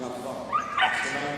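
A dog at the Crufts 2019 agility team small final lets out a couple of short yips or barks, close by, under a commentator's steady talk and arena crowd noise.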